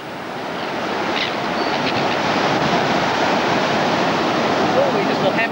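Ocean surf crashes onto the shore as a loud, continuous wash of breaking water and spray, with wind noise steadily rushing over the microphone.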